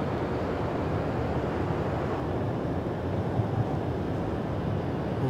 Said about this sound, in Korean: 그냥 바람 소리만 들어도 추워